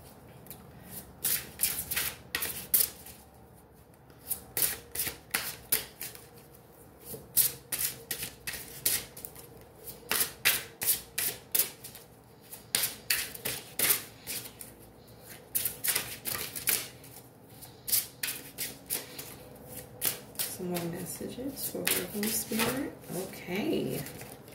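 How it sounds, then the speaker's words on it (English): Spirit of Animals oracle cards being shuffled by hand: repeated quick riffling bursts in a steady rhythm, close and crisp, with a voice talking softly in the background. "I'm going to pull another card from the Spirit of Animals Oracle."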